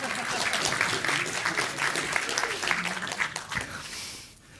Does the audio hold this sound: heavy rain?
no